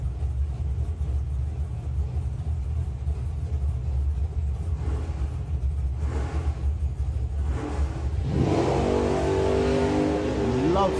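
Barry the Barracuda, a nostalgia drag racing car at Santa Pod Raceway, roars off the line beside another racer: a loud, steady engine blast whose pitch climbs sharply as it accelerates away down the strip.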